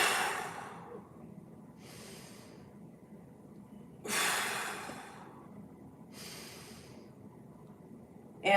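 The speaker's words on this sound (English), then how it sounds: "3 big breaths." Four deep breaths in and out during a held mobility stretch, loud, breathy bursts spaced about two seconds apart with no talking over them.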